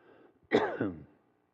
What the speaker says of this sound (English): One with a cough and a dry throat.